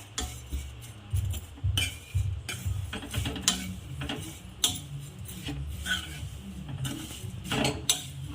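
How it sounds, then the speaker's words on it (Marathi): Vermicelli is roasted in a little oil in a pan, a spoon scraping and clinking against the metal in an irregular rhythm over a faint low sizzle, close up, with no speech. "आता याला भाजून घेऊ आपण छान भाजायचं आहे"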